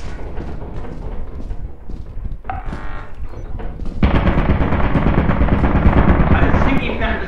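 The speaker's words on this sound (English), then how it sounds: "I think you found a turret." Turret gunfire in Lethal Company erupts as a loud, dense burst that begins suddenly partway through and keeps roaring to the end, with voices talking underneath.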